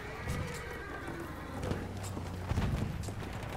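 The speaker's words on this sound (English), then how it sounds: "that's our horse" Horse hooves clip-clop in the video game Battlefield 1, with a whinny from the horse over a low, steady ambient rumble, faint and mid-distance.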